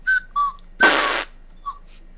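Short whistled melody in Minecraft: a few clear, high notes in a quick sequence, interrupted by a burst of noisy sound in the middle, with a faint final note trailing off.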